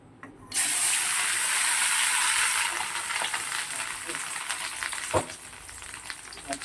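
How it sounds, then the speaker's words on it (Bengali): Eggs frying gently in a pan give a sudden bright hiss that settles into a softer steady sizzle, with a few clinks and one sharp knock near the end. "একদম আস্তে করে ভেজে নেবো, ভালোভাবে ভেজে নেবো।"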